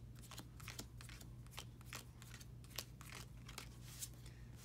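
A deck of cards from the DC Deck-Building Game is shuffled nearby, a steady run of crisp, quick papery clicks and flutters with no voices over it.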